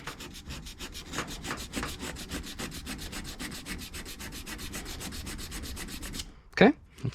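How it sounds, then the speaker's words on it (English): Metal on a bus seat frame is sanded with steady back-and-forth rubbing strokes, a regular rhythmic rasp repeated for several seconds up close, ending with a louder scrape or knock. "And then I'm gonna sand off where I'm gonna be welding it."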